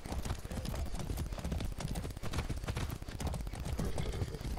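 Horse hooves clip-clopping in Far Cry on PlayStation 5, a steady rhythmic patter of hoof falls carrying on throughout amid game ambience.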